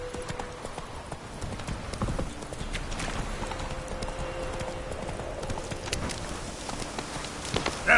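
Hooves of the horse Roach beat in a steady clip-clop gallop across a video game landscape, loud and continuous, with a faint whinny and a brief voice near the end.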